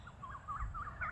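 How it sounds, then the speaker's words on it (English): A few quick, faint bird chirps repeating in a short rhythmic series over a low outdoor rumble. "listen to the bird chirping"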